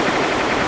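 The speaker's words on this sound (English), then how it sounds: "Cuban missile barrage." Cuban missile barrage in a video game: a short, loud, dense stream of rapid-fire blasts with no gaps.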